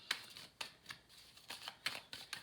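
Tarot and oracle cards are shuffled by hand in a series of quick, soft riffling bursts at an irregular rhythm, close and quiet, with no voices.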